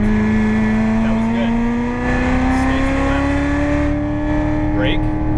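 A Corvette Z06 accelerates hard around the Las Vegas Motor Speedway track, its engine holding a loud, steady, rising drone throughout with a slight climb in pitch, while an instructor's voice talks over it.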